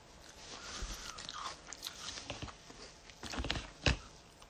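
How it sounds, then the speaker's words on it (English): Crunchy cereal is bitten and chewed close to the microphone, a quiet series of irregular crisp crunches with brief pauses between bites. "I'm eating cereal."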